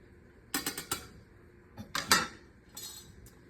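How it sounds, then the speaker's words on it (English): A spoon clinks and scrapes against a pot of zuppa toscana in short bursts of metallic taps, close and fairly crisp, with quiet gaps between. "Give it a stir."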